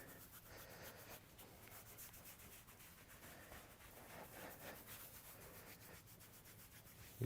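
A hand rubs a young foal's coat, making soft, continuous brushing and rubbing strokes that are close and quiet, with no voices.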